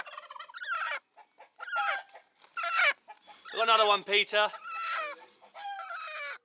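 Injured chickens on a farmyard after a dog attack cluck and squawk in loud, close, repeated bursts, with a voice speaking briefly between the calls.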